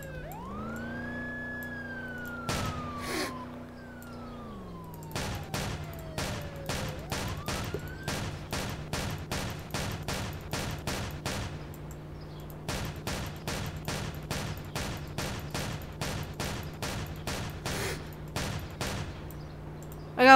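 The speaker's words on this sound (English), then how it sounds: "They shouldn't be shooting." Gunfire in a video game during a chase with an army force: a wailing siren-like tone rises and falls at first, then sharp shots crack out in quick, evenly spaced bursts, loud and close, for most of the stretch.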